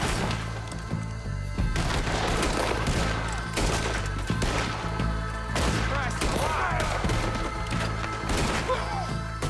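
Heavy gunfire in a Red Dead Redemption 2 gunfight crackles in rapid, overlapping volleys, loud and close, with sharp shots and booming reports following one another throughout.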